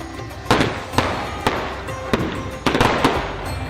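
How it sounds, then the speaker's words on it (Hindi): Diwali fireworks bursting in a rapid series of loud cracks and bangs, irregularly spaced over continuous crackle and background din, with no talking. "सतरंगी आतिशबाजी से रोशन आसमान"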